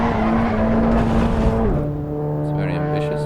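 A Golf 8 R drifting in Assetto Corsa EVO gives off a loud, close engine note, high and straining before dropping to a lower pitch as the revs fall, with a voice talking over it.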